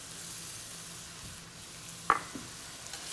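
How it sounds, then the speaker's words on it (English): Long grain rice goes into a pan of frying garlic, with a soft, steady sizzle close by and one sharp scraping clink of stirring partway through, no talking. "We're going to put some rice in here,"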